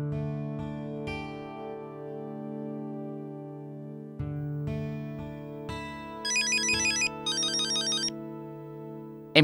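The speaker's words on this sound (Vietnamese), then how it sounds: "Em có điện thoại kìa Gauri." Phone ringtone plays a sustained electronic melody with rising tones, then a fast trilling ring pattern repeats twice, clear and alone with no talk.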